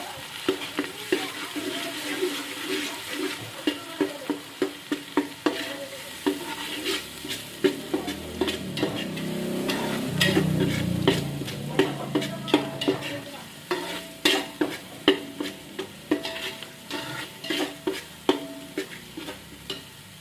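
Whole spices frying in coconut oil in a pan, stirred with a utensil: a steady close sizzle broken by regular scraping and clinking strokes, with a louder burst of frying midway, no talking.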